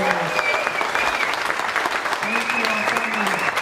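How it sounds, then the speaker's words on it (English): Town hall audience in North Hampton, New Hampshire applauding Congresswoman Tulsi Gabbard, steady crowd clapping throughout with voices talking and calling out over it. "I want to ask for a round of applause for Congresswoman Gabbard for coming."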